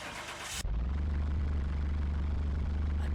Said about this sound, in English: let's get this one started and see what this engine sounds like